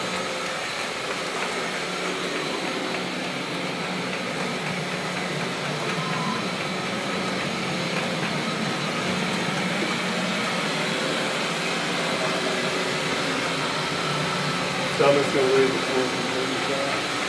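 A floor scrubber machine with a trailing squeegee runs steadily along a hallway, a constant broadband whirring drone that stays level throughout, with a few faint brief sounds near the end.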